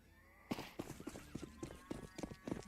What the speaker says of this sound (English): You can hear those animal sounds.